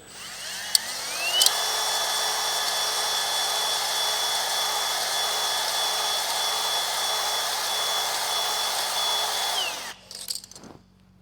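Honing stones spun by a power drill grind the glaze off a cylinder wall in a long-seized Caterpillar road grader engine, a loud steady whine lasting about nine seconds before winding down into a few scrapes and knocks.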